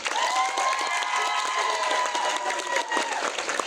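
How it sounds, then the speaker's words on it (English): Applause and cheering from a convention crowd at cosplay closing ceremonies, lively clapping mixed with scattered shouts and a few voices, sustained steadily throughout. "Please give Alicia a round of applause"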